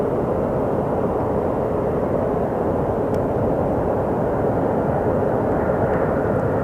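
A Southwest Airlines airliner arriving at Sky Harbor Airport, heard as a loud, steady broadband jet roar that holds for several seconds without pause.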